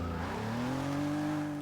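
Pontiac Aztek with a large rear wing in Forza 6, racing engine whining upward in pitch as the tires spin and squeal, loud and continuous with no talking.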